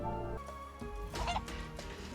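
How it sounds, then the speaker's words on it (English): Hen clucking in the Final Fantasy VII video game, a few soft clucks and squawks rising over a steady bed of game music, fairly quiet throughout. "Come here, you dumbass chicken."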